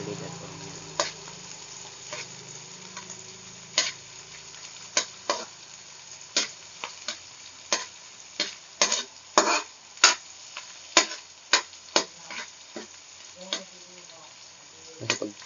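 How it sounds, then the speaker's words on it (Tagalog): Green chili, garlic and onion sautéing in a pan for chicken adobo: a steady sizzle with frequent sharp clicks and scrapes of a utensil stirring against the pan, close and fairly loud, without speech. "Gawin na natin yung siling at gawin yung garlic at onion"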